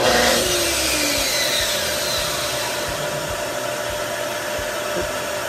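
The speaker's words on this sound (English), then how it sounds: "Before you press forward, you will want to turn the machine on." A cross cut saw motor switches on and runs, giving a loud, continuous whirring whine that holds steady after a brief stronger start, with no voices.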